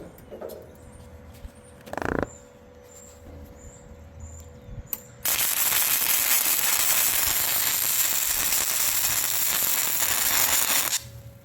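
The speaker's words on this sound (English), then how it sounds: "We'll make this poor welder earn its keep." A welder crackles and hisses loudly and close for about six seconds without a break during work on a mobile chicken coop, after a few quiet clicks and creaks.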